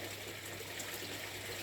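A Muscovy duck splashes about in a garden pond, giving a steady, close wash of churning water with no clear breaks.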